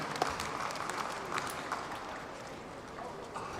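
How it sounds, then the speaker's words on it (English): A crowd applauds steadily, a dense wash of clapping hands that holds at an even level throughout without pause. "give another warm round of applause"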